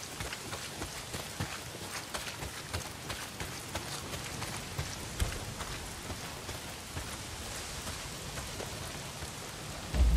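Heavy rain pours steadily in the open-world game Days Gone, a dense continuous patter on surfaces with scattered louder drops and no talk.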